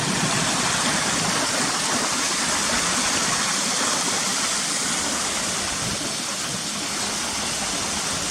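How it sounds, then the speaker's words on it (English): Waterfall in a gully at Cautley Spout, a steady broadband roar of falling water that stays constant and full throughout, with no voices. "looking down the waterfall there, back down towards the main waterfalls around the corner there in the gully"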